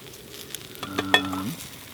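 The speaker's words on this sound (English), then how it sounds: "And I haven't taken it off here, so it's still boiling." Water boiling in a pot on a PaleoStove camp stove, heard as a low, steady sizzling and bubbling hiss up close with no one talking.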